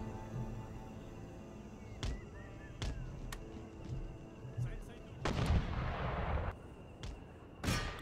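Artillery cannons in the Empire: Total War battle game firing scattered booming shots at irregular intervals over a low battlefield rumble, with a longer noisy blast burst near the end.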